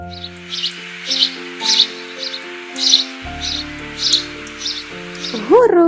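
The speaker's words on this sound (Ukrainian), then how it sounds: "Горобець." A sparrow chirps in a regular series of short, bright peeps, about one per half-second, over gentle background music.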